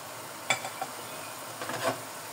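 Pancit miki noodles fry in a pan with egg: a quiet, steady sizzle broken by a few soft clinks and scrapes of a utensil against the pan, with no one talking.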